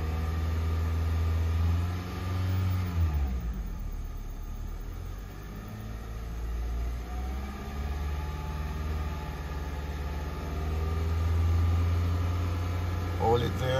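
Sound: car engine being revved up during battery test

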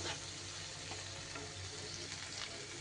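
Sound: spice paste sautéing in a pan

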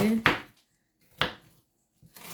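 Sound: chopping onions thinly

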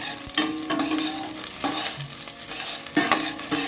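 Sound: meat sautéing with browned garlic and onion

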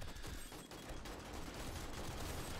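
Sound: firing squad gunfire in video game 7 Days to Die

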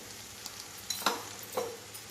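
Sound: stirring coriander and cumin powder into the pan

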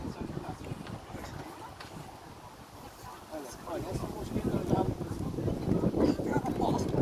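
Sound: wind blowing into the microphone outdoors

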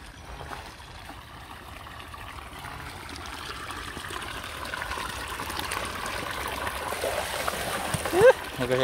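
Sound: running cold water

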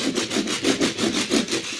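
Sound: toy train Nakayoshi Edward scraping against grass mat

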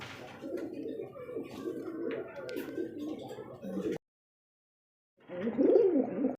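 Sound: Shirazi pigeons cooing

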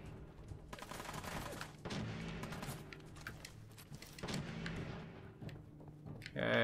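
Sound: gunfire from a weapon in the video game Fallout 4

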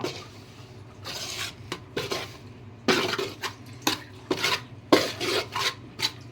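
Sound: rice being roasted and stirred in pan

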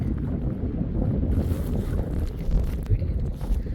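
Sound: strong wind blowing

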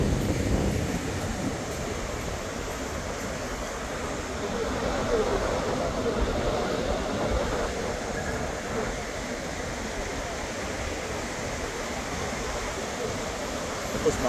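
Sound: wind and waves at the beach

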